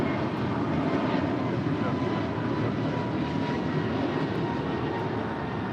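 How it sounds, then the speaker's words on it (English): An Alaska Airbus A321neo airliner takes off at LAX, a continuous, broad engine roar heard from a distance, steady in loudness for the whole stretch. "we do have the more to love A321neo taking off"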